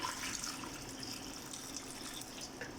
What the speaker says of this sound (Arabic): راح اضيف هذا المي الفاير حيل